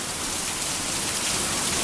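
Heavy rain pours steadily during a strong thunderstorm in Wilmore, Kentucky, a dense, close hiss of water hitting surfaces that continues unbroken for the whole stretch, with no distinct thunder clap standing out.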